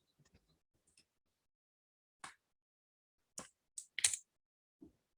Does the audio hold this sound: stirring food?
no